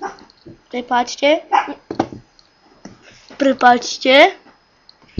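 Sharp, high yips from a pet chihuahua come in quick clusters close by, mixed in with a man's ongoing speech.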